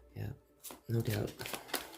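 Tarot cards being shuffled during a card reading, a few short papery riffles and flutters, close and fairly clear, with a voice speaking around them.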